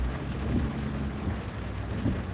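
A rare week-long rainstorm with thunder: a steady, dense wash of rain with low rumbling swells, continuous and fairly loud throughout, with no voices.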